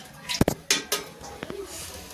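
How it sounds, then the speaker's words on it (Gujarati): A ladle scoops oil into a cooking pot for a whole-potato curry, giving a few sharp metallic clinks and clanks against the pot, close and clear, followed by quieter rattles. "4 પાવડા તેલ નાખી દેવું એમાં."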